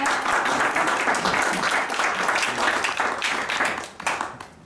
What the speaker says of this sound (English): Please, a round of applause for this John.